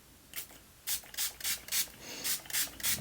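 LA Girl setting spray mists out in a run of short hissing bursts, about eight close sprays in quick succession, with no talk.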